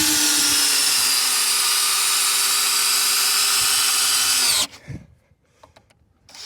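A power drill drives a fastener into a timber railing, whining steadily and loudly for about four and a half seconds before cutting off. A few quieter knocks and handling sounds follow.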